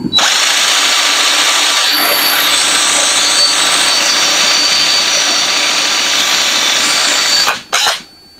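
Steady high-pitched whine of a drill bit spinning against aluminum from a budget tool, loud and continuous for about seven seconds before stopping abruptly.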